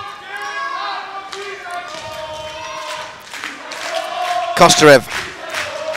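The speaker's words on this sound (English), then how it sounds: "A fantastic crowd in to support this." Spectators in the arena at a hockey final between Dinamo Yekaterinburg and Harvesterhude, a steady crowd murmur under a commentator's voice, with a sharp swell of noise near the end.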